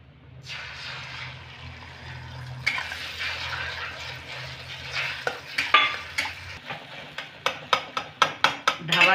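Beaten egg stirred and fried into bhurji in a pan for a dhaba-style tarka: a steady sizzle runs throughout, with a series of sharp, rhythmic scrapes and clinks of a spatula against the pan toward the end.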